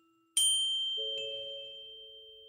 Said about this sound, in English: the sound we had heard was from a bell she was holding